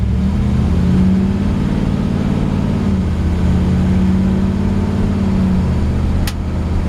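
A 1958 Chevy Apache truck fitted with a Camaro 350 engine and automatic transmission drives along, its engine humming loud and close, pitch rising then dropping as it shifts, with steady road noise.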